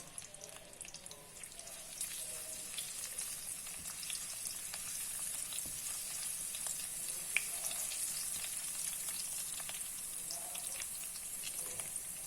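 Ginger and garlic frying in a pan for a chilli chutney, giving a quiet, continuous hiss with faint occasional clinks, heard alone without talking.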